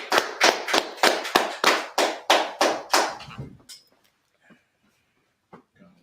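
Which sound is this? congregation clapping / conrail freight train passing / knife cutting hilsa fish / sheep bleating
congregation clapping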